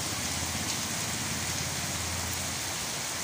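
Heavy rain pours steadily in a dense, unbroken roar of drops hitting surfaces, loud and close throughout with no pauses.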